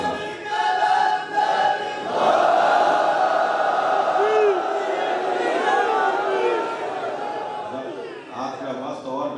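A crowd at a Jashan Eid Milad ul Nabi gathering in an imambargah in Arifwala chants religious slogans together, a loud, sustained roar of many voices rising and falling, up close and filling the space.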